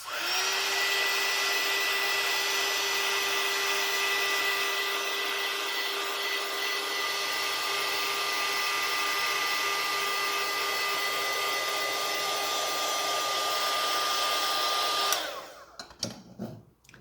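A heat tool warming gold leafing on a handmade card, blowing with a steady whining hum for about fifteen seconds, then abruptly switching off, followed by a few faint handling clatters.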